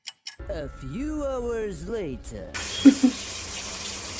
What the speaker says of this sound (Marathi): आता इथं नळ रिपेअरिंगचं काम चाललंय